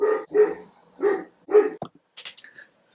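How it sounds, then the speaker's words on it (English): A dog barks four times in a quick, evenly spaced series, loud and close, followed by a short sniff and a few soft whimpering sounds. "What the fuck is he barking at?"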